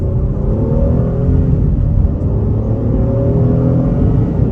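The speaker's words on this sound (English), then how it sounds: "yeah, definitely gets up and goes. Really strong feeling engine." A 2023 Honda Pilot EX-L SUV engine pulls hard under steady half-throttle acceleration, a continuous low rumble with rising tones, loud and close from inside the cabin.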